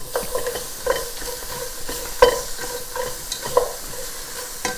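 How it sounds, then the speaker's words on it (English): Tomato puree being stirred into a Dublin Bay prawn soup in a hot pan, the spoon scraping and clinking in scattered strokes over a soft, steady sizzle. "And then we just literally stir this all together."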